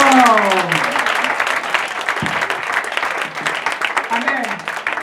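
Church congregation clapping and cheering for Jesus, a steady wash of dense applause filling the room, with a voice rising over it and cheers mixed in throughout.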